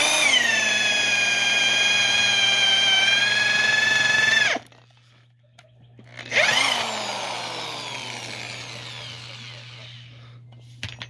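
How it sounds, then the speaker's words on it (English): A heavy-duty drill with a 7/8-inch boring bit whines loudly into a log, stops for a moment, then spins up again and bores another hole, its pitch sagging under load. "we drilled multiple holes in here"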